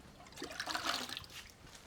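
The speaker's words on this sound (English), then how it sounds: "add water till the jar is full" Water is poured into a jar packed with yarn for acid wool dyeing, a soft close trickle and bubbling fill that swells and fades over a couple of seconds without talk.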